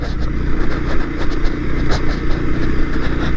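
A 2015 Honda CB300F motorcycle engine labors in first gear up a steep, bumpy gravel hill, a close, continuous throaty drone with rapid pulsing and uneven surges, loud and steady without speech.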